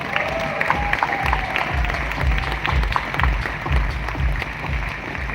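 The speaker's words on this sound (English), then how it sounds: "please join me in giving a huge round of applause to Karnataka's Veera Kodava" An audience at an outdoor event in Cubbon Park, Bengaluru, applauds Rohan Bopanna with steady, sustained clapping from a sizeable crowd, a faint tone lingering early and some voices mixed beneath.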